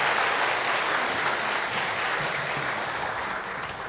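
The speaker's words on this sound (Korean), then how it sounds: "우리 힘차게 우리 축복의 박수 해주시겠습니다" Sustained applause from a congregation at a Korean church Sunday worship service, a steady broadband clatter of many hands that stays loud throughout and tapers only slightly at the end.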